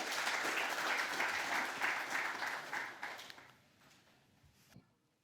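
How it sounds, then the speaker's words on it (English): Audience applause for five panel speakers at a climate discussion, a thick round of clapping that holds for about three seconds, then thins into scattered claps and fades to near quiet. "please, a final round of applause for our 5 speakers"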